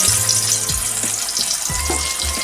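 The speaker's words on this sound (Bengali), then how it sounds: "এখন নুন হলুদ মাখানো মাছটা আমি তেলের মধ্যে দিয়ে দিচ্ছি" Fish pieces coated in salt and turmeric hiss and crackle loudly in hot mustard oil in a kadai on a gas stove, a continuous close sizzle with a few low knocks from the pan.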